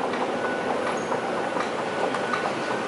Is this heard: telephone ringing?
no